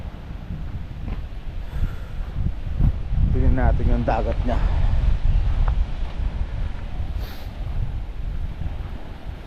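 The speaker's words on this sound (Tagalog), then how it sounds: "Kaya lang sobrang lakas ng hangin ngayon" Strong, gusty wind roars across the microphone on the rocky seashore of Borawan Island in Padre Burgos, Quezon, a steady low rumble lasting throughout while a person talks over it.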